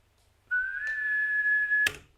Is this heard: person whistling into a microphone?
yes